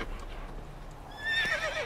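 Horse in the video game The Witcher 3 gives a loud, close whinny near the end, preceded by soft hoof clip-clops and ambient game sound.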